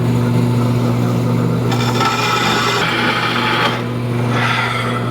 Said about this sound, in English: Scribe a line and take it to the bandsaw to cut it out.